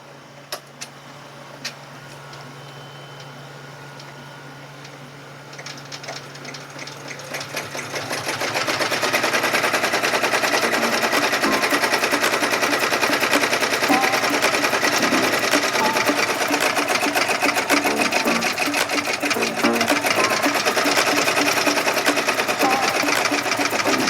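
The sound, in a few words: embroidery machine stitching out a design on belt hoop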